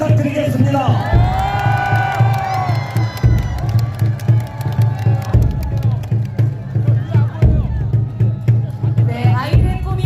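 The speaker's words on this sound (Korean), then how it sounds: "여러분 큰 박수 부탁드리겠습니다" Large campaign rally crowd on the eve of the final Seoul election rally cheering, whooping and shouting together, a loud sustained roar with children's voices and a steady low hum underneath, surging in waves.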